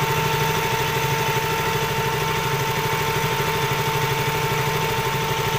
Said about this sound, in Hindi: ठंडा करने के लिए एक फ़ैन लगा होता है